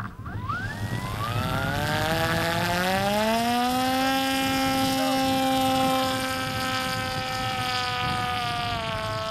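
Giant Fly model aircraft engine at launch on its maiden flight, a loud steady buzzing drone with a rising pitch that climbs, holds strong for several seconds and slowly eases, no talk over it.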